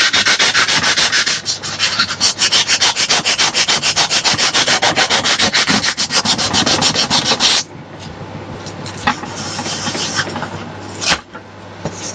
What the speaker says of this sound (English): the area is getting sanded